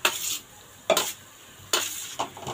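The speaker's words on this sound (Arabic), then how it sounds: "هنزل بقى كده بالخبيزه" Mallow leaves dropped into a hot frying pan with green chili and herbs: short bursts of sizzling and stirring scrapes, three or four close, fairly loud surges separated by a quieter steady hiss.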